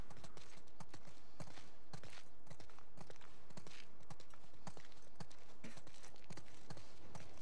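Horses' hooves clip-clop steadily and close by in The Last of Us Part 2, a dense run of sharp hoof strikes repeating throughout with no talk over them.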